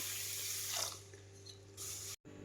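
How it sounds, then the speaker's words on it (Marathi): Running water splashes steadily over finger millet (ragi) being rinsed before soaking for papad, a continuous close tap-and-sink wash that thins midway and cuts out briefly near the end. "सुरुवातीला मी ही नाचणी चांगली स्वच्छ धुवून घेणार आहे"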